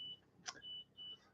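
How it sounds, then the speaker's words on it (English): An oven beeps faintly in the background with thin, high-pitched tones that come and go, plus one brief sharp click. The room is otherwise quiet. "You may hear a high-pitched beep in the background, and that is the oven going."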